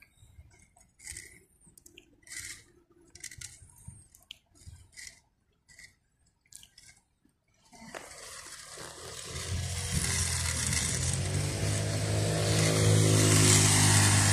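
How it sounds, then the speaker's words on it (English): A motorcycle passes a child and father outdoors as a typhoon approaches, arriving as a rising, broad engine roar that swells from quiet to loud over the last several seconds and stays loud at the close. "Motorcycle. yeah, motorcycle."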